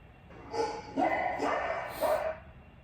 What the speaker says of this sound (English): there's like other dogs barking